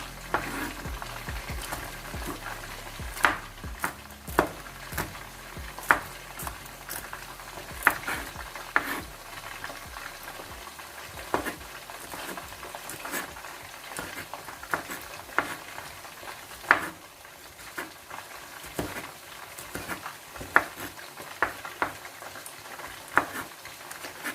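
Fish fries in a pan with a steady crackling sizzle, broken by repeated sharp clicks and scrapes as it is stirred and turned, close and with no talk.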